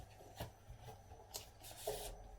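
A paper acceptance-letter envelope being opened by hand, with a few short crisp rustles and tearing scrapes, close and quiet, no talk.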